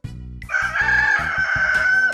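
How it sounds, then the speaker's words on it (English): A rooster crowing a full cock-a-doodle-doo: one long, loud, close call held for nearly two seconds, alone without speech. "A rooster makes a cock-a-doodle-doo sound."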